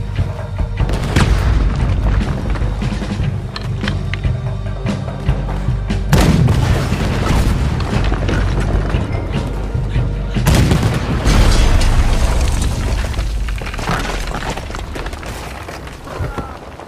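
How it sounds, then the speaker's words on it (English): Heavy cannon fire in Red Dead Redemption 2 during a ship mission, with deep booms landing around 1, 6 and 10 seconds over a constant rumbling battle bed, while voices shout beneath it. "there's another cannon up ahead on our left"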